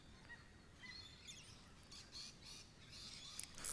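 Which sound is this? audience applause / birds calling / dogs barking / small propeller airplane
birds calling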